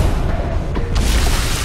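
A single gunshot is fired at a jelly in Tales from the Borderlands, a short, loud, booming crack near the end of a brief, noisy stretch.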